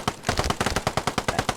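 A ZB26 light machine gun, the Czech precursor to the Bren, fires in the Post Scriptum video game: a fast, steady automatic burst of evenly spaced, loud, close shots.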